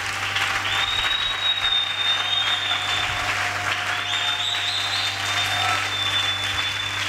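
A church congregation applauds loudly and continuously, a thick, even roar of many hands clapping that holds for several seconds, with no talk over it.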